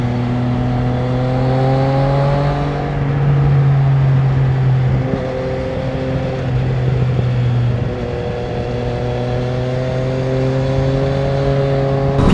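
A 2020 Triumph Street Triple RS motorcycle is ridden on the road, its engine droning close and loud with pitch rising through the gears, dipping at a shift around three seconds and climbing again over rushing wind.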